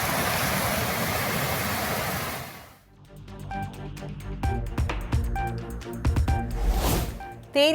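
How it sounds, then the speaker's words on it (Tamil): A flooded waterfall at Chinnasuruli falls in Theni district roars after heavy rain, a dense, loud, continuous rush for about three seconds before it cuts off and music follows. "அருவியில் நீர் ஆர்ப்பரித்து கொட்டுவதால்"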